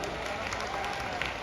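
Applause from a crowd at an election campaign rally in Gurugram, a dense steady patter of many hands at moderate distance with crowd murmur mixed in.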